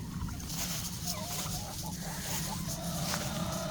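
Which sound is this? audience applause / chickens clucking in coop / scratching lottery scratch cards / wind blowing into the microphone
chickens clucking in coop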